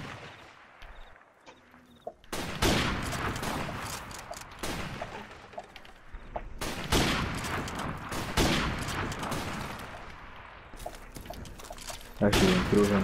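Gunfire in Call of Duty: Modern Warfare Remastered during a 1v1 match, repeated bursts of loud sharp shots and rapid volleys spread across the clip, with quieter gaps between.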